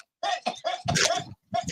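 A person coughing after smoking, a close, raspy run of several hacking coughs in quick bursts separated by brief pauses.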